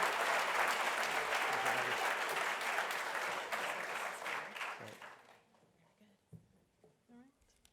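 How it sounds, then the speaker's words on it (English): An audience at the National Press Club applauds to welcome John Mackey, co-founder and CEO of Whole Foods. Loud, sustained clapping tapers off after about five seconds into quiet room noise and a few faint sounds. "if you could please join me in a round of applause to welcome John Mackey"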